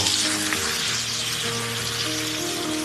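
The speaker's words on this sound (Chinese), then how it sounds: "在煎的过程当中呢，我们就是可以用这个铲子往下给它压一压" Lotus root patties pan-frying over medium-low heat in a little oil, giving a loud, dense, continuous sizzle up close as a spatula presses them down, with no voices.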